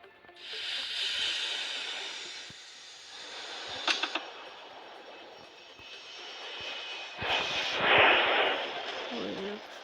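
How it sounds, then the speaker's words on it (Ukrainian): Airplane engine roaring with a broad hiss as the plane departs, steady loud jet noise that swells and fades, with people talking over it. "Літак вилітає в нове місто."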